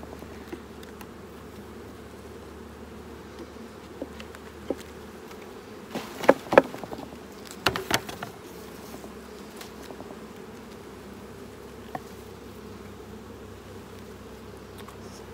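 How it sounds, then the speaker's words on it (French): Honeybees hum softly around a hive frame during an inspection, a low steady drone with a few sharper close buzzes partway through and no voices. "Ici, il y a trop d'abeilles."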